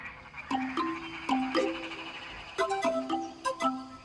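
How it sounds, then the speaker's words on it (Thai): Frogs croak in short, nasal calls, several in irregular succession, close by against a quiet background. "ปกติกบเขียดจะส่งเสียงร้องก่อนฝนตก"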